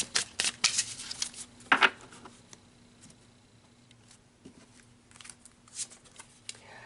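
Tarot cards shuffled by hand before a reading, with quick papery riffles and soft flicks near the start, then lighter scattered card taps and slides over a faint steady background hum.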